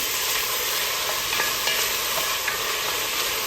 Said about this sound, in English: we're gonna move this around here because we definitely don't want that garlic to burn